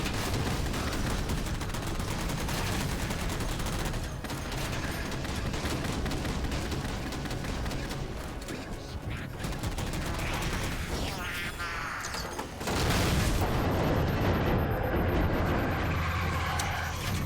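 Explosions and gunfire from the Halo 4 video game, a dense, continuous barrage of shots and blasts with vehicle rumble, loud throughout, swelling into a heavier burst toward the end.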